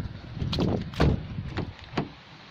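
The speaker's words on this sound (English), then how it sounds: "I thought I unlocked that door." Car door handle on a Proton Saga Aeroback is tried several times: a few short clunks and rattles, close and fairly loud, separated by brief pauses as the locked door fails to open.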